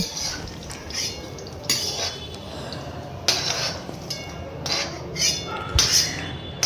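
Fried bitter gourd strips shifted from a frying pan into another pot, with a run of metal utensil scrapes and clinks against cookware, several brighter clatters spaced across the span, close and fairly clear with no talk.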